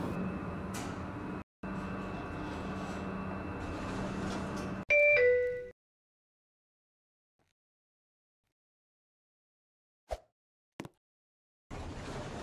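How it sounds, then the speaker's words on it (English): Elevator in a Roblox game with a steady mechanical hum of descent, then a loud chime and sliding doors before near silence, broken by a couple of brief clicks and the hum resuming at the end. "This lift is going down."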